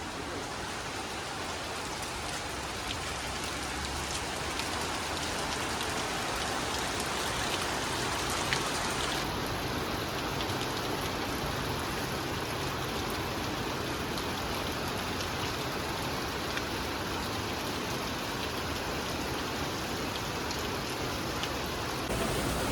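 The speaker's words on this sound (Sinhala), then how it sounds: "සුපිරි වැස්සක් නේවා" Heavy rain pours outside a rented boarding room, a steady, even hiss of drops on surfaces that holds without a break for over twenty seconds and no voices.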